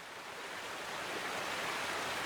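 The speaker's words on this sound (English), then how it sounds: "All I can hear is the sound of the running river." In the visual novel Nekopara Vol. 4, a running river fills the quiet night scene with a steady, soft broadband rush of flowing water that swells slightly toward the end. No voices are heard.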